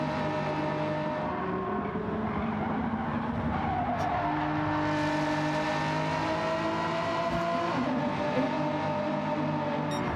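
Several race cars in Gran Turismo 7 crossing the finish line in an online lobby race, one spinning its tyres to lay tarmac-lighting smoke; dense engine drone with a faint tyre squeal runs steadily throughout.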